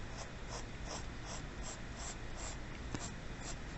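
Marker strokes tracing a circle on a board, a steady series of soft, regular squeaky swipes repeating about twice a second, fairly close, with no talk.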